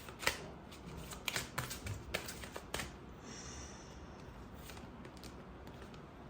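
Tarot cards shuffled by hand in a quiet room, a quick run of soft riffling flicks and taps over the first three seconds, then a faint steady hush.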